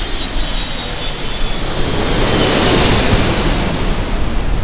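An Etihad Airways Boeing 777-300ER jet airliner roars past at Sydney Airport, a loud, broad, steady rumble with wind-like rushing that holds at full strength through the whole stretch, with no voices.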